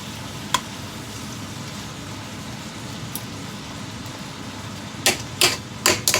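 A steak cooking in a pan over high heat gives a steady, low sizzle throughout, with a few sharp clicks and taps breaking through, one early on and a cluster near the end.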